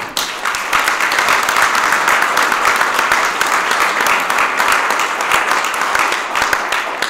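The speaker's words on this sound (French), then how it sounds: "Je tiens absolument à ce qu'on l'applaudisse très très fort." A ceremony audience claps loudly and steadily for several seconds at a stock exchange listing event for a Brussels real estate agency at Euronext. The applause is dense and even from start to finish.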